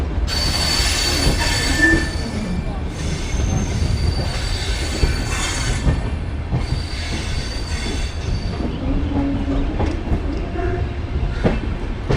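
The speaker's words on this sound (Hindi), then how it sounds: "अपने सही निर्धारित समय पर ट्रेन ने यहाँ से चलना शुरू कर दिया है" The Amritsar-Bikaner Superfast Express pulls away from a station, wheels squealing loudly against the rails over a steady rumble of rolling carriages, with faint clicking joints, close and continuous.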